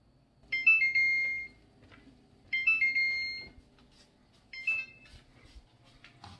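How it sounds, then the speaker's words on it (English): A kitchen timer goes off while cookies bake, sounding three short bursts of rapid electronic beeping at regular intervals, fairly loud and close, with soft kitchen noise between and no talk. "So the timer went on for 6 minutes, which is halfway."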